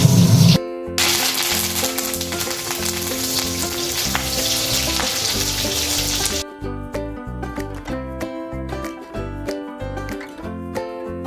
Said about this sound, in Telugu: క్యాబేజ్ తోరన్ చేస్తున్నానండి